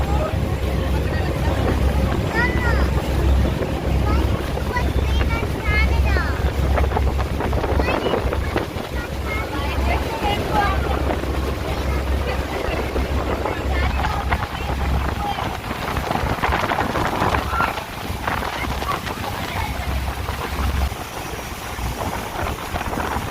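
A cruise boat ride at Niagara Falls carries a steady roar of wind buffeting the microphone over a low engine rumble, with crowd voices and talk mixed throughout.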